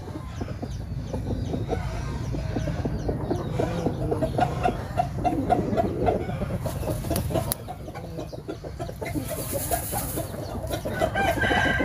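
A gray fighting rooster crows loudly and close, with repeated clucks between the calls and other fowl sounding faintly in the background.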